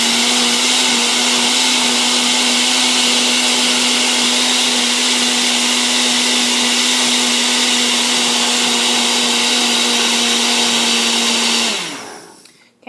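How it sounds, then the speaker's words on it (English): A countertop blender on its smoothie setting whirs steadily at high speed through berries and banana, a loud constant motor drone for about twelve seconds before spinning down and stopping. "This particular blender has a smoothie button, which I'm going to press to blend up all of our fruit."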